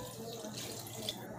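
Water poured into a pot while cooking tomato rice, a faint, steady splashing rush with no pauses.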